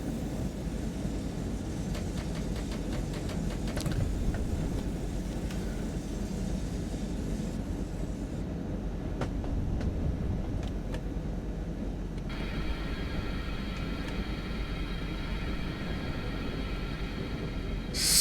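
Train rolling along in a simulator set on German and Austrian cross-border lines near Salzburg, a steady low rumble and hum with a brief rising whine near the end, no talk.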